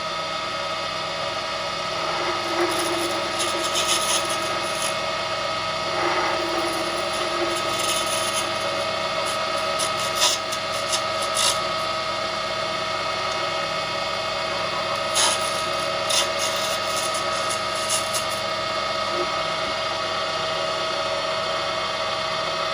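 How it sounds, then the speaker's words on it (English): An acrylic pen blank turning on a lathe gives off a steady, fairly loud grinding whir with faint light chatter, and brief brighter scraping bursts come through the middle and near the end. "You will hear a little bit of a chatter,"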